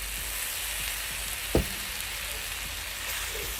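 Noodles sizzle and crackle in a hot pan with soy sauce during a stir-fry, a steady frying hiss with one sharp clack of a utensil midway and no voices.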